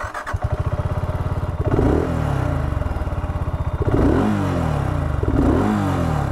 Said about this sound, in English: let's fire up that single engine